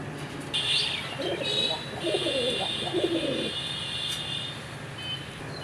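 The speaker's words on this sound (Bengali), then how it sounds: "আমরা এখানে আরেক জোড়া কবুতর দেখতে পাচ্ছি, আর এটাও আমাদের সেই দেশি গোল্লা কবুতর।" A pair of deshi golla pigeons coo in soft, repeated throaty phrases close by, with faint chirps and background hum around them.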